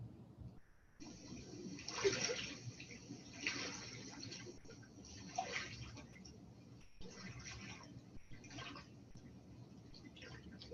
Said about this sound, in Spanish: Esta orilla del mar de Galilea al amanecer